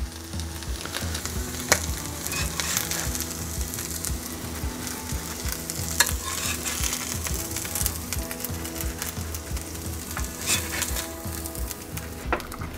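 Cornbread batter frying in butter in a hot pan gives a steady, close sizzle with fine crackling and occasional sharper pops throughout, with no talking.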